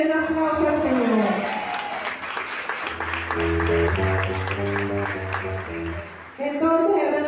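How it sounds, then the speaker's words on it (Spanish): A church congregation at a prosperity retreat claps in a sustained wash of applause, joined by steady, sustained music and scattered voices, filling the room at moderate loudness throughout. "denle un aplauso al Señor"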